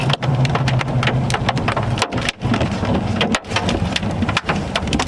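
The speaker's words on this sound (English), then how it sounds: "we got some big hail falling" Quarter-size hail pours down during a thunderstorm in northern Oklahoma near I-35, a dense, loud clatter of sharp impacts with a low rumble beneath, fairly steady and close.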